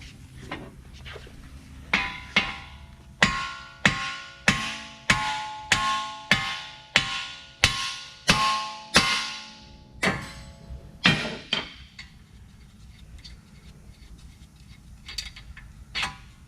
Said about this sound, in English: You hammer right there, just hammer the shit out of that